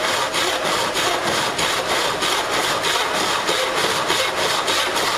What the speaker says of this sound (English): So using our handsaw, once we get this started